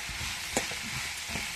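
Pumpkin sambar ingredients sautéing in a pan, a steady soft sizzle with a few brief stirring clicks and scrapes, moderately quiet and continuous with no talking.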